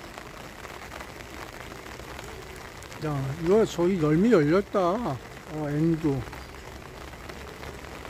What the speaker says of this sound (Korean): 비가 오고 있어.